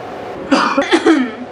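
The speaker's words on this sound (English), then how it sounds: "Hold on, I'm coughing." A couple of short, harsh coughs close to the mic, with a throat-clearing rasp, against quiet background.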